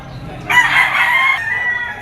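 A yellow-legged bull stag gamecock of pumpkin sweater bloodline, at a rooster market in Padre Garcia, Batangas, lets out one loud, close crow lasting about a second, its tail fading over faint background noise.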